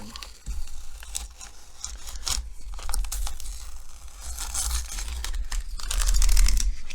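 Painter's tape peeled slowly from the lacquer finish of a Gibson Pelham Blue guitar, a close, continuous tearing and crinkling rasp that swells louder toward the end.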